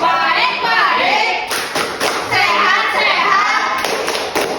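Schoolchildren in an Indonesian classroom clap together in a quick rhythmic chant, loud close hand claps and thumps mixed with young voices calling out during a microteaching lesson.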